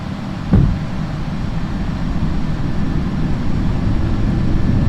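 A steady low rumble inside the cockpit of an FSLabs A319 airliner in the Prepar3D flight simulator, with a brief thump as the landing gear begins extending, then a continuous loud drone of wind and engines with no talk.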